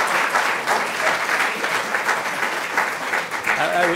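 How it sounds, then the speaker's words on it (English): An audience claps steadily and warmly at an installation ceremony as the honoree walks back into the room, a continuous even wash of many hands with no talking. "You can clap now as she comes back in."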